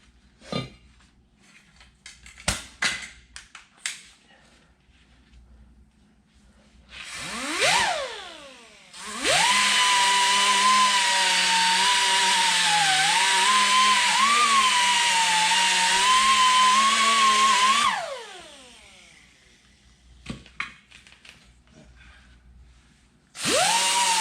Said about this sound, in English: I'm going to clean inside here and get the rust off from the inside here